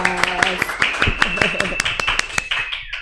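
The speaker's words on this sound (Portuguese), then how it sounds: "Uma salva de palmas!" A podcast studio audience applauds a guest doctor, sharp claps sounding steadily under a voice that keeps talking over them.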